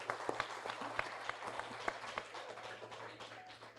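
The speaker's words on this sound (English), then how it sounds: "Let's give a round of applause to Professor Benjamin." An audience at a science panel event applauds a professor, a thin spread of clapping with a few sharp, distinct claps standing out, fairly faint and fading toward the end.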